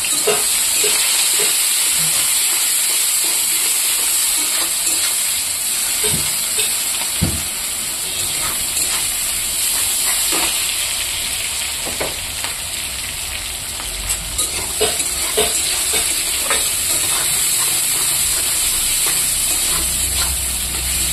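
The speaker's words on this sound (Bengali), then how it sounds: "তেলটা গরম হয়ে গেছে। এখানে আমি এই যে কাটা রাখা পেঁয়াজটা দিয়ে দেবো।" Chopped onion fries in hot oil for a desi cauliflower sabji, a loud, steady, hissing sizzle that runs throughout with occasional faint ticks and crackles, no voices.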